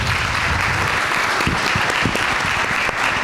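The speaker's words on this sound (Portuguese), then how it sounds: "Por favor, uma salva de palmas" Audience at an election workshop applauding the women present, a dense, steady wash of many hands clapping at close range throughout, with no talk over it.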